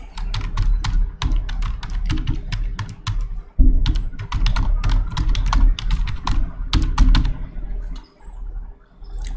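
Fingers tap out a web address on a computer keyboard in steady bursts of close, crisp keystrokes, with a brief pause near the middle and a quieter stretch at the end.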